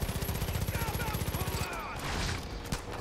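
Gunfire in Far Cry 5 on hard difficulty: a fast, even burst of automatic shots lasting over a second, then scattered game noise and shorter shots, fairly loud and close.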